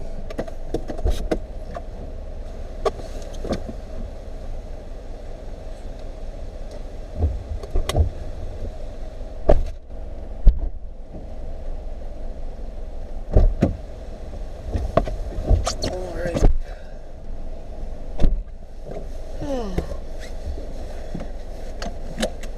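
A car driving along, with a steady low road and engine hum beneath scattered clicks, knocks and brief interior rattles, no talking.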